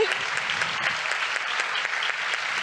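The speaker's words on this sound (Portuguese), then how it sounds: "Vamos levantar para bater palmas para esse pessoal que trabalhou bastante" At an evening session of a national and Latin American conference on comfort, the audience gives a round of applause for the organizing committee: brisk, even clapping from a sizeable crowd, sustained and fairly close.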